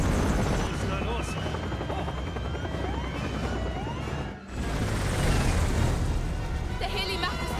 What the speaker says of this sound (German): Der Heli macht es nicht mehr lang